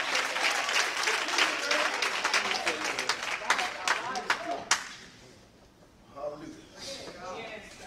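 A church congregation claps hands in praise, a loud burst of many hands that cuts off abruptly, followed by quieter room sound and a voice speaking.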